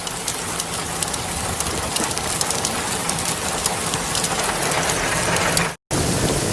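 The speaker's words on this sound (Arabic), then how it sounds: "بردية على حائل الآن والرعود ما تقف" Heavy rain mixed with hail pours down in Hail, Saudi Arabia, a dense, loud, continuous patter of pellets drumming on surfaces close by, briefly cut out just before the end.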